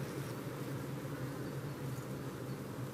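Honeybees buzzing steadily near two mobile phones, a dense continuous hum of many wings, loud and unbroken throughout with no voices.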